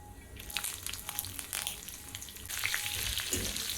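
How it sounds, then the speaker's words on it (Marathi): Green chillies sizzle in hot tempering oil with cumin, mustard seeds and curry leaves, making a steady close frying crackle with sharper spatters, while preparing poha. "आता आपल्याला हिरव्या मिरचीचा तडका द्यायचा आहे."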